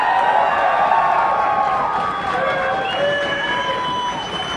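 Arena audience at an esports final cheering for CLG: a loud, sustained roar of crowd cheering and shouting that swells at first, then eases slightly while staying continuous throughout.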